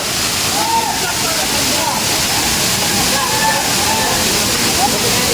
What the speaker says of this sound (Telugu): గాయస్ వాటర్ అయితే కింద అయితే పడుతున్నాయి కదా, ఆ వేగానికి అయితే గాలి బీభత్సంగా అయితే వీస్తుందనమాట.